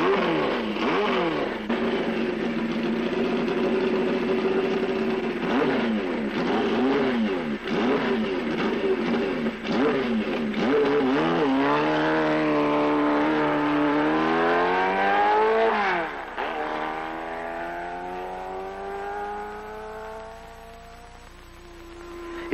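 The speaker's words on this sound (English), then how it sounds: "Yvon DuHamel takes the Z1 around the 2-mile oval wide open." A 1973 Kawasaki Z1 motorcycle runs wide open around the 2-mile Daytona oval on a closed-course speed record attempt, its loud engine howling steadily with rising and falling pitch as it sweeps past, then fading.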